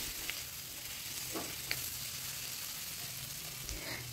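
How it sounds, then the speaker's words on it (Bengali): Potatoes frying on a high flame in a pan for an Aloo Manchurian snack, giving a steady low sizzle with a few soft stirring scrapes and a sharper knock at the very end. "এখন এগুলোকে হাই ফ্লেমে 30 থেকে 40 মিনিট মতো নাড়াচাড়া করে নিতে হবে"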